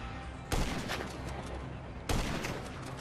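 Two bursts of gunfire in GTA V striking a car door, each a sharp loud crack followed by a noisy rattling tail, spaced about a second and a half apart.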